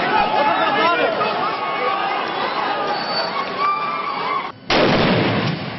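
Live-round gunfire from American troops in Iraq in 2003 crackles through dense crowd noise and shouting, broken by a brief lull before a sharp, loud renewed burst near the end.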